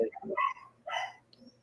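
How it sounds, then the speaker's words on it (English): Several dogs bark in short bursts, a few sharp yips and barks close by, then trailing off into quieter whimpering and a faint high whine. "let me go strangle these dogs"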